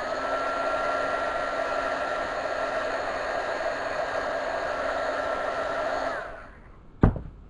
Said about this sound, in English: And then again, you go with the heat gun.